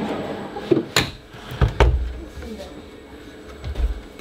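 A large kitchen drawer in an RV slides and knocks shut with a few short wooden thumps and clicks, fairly close and moderately quiet.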